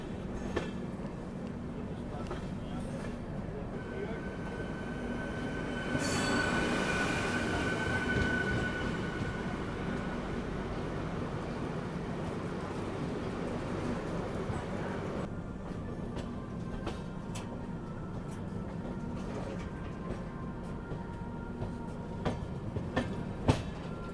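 The Sairang Rajdhani Express rolls steadily on rails near a yard, a continuous rumble and clatter of wheels with a brief squeal, as a MEMU train approaches from the opposite direction; little talk is heard.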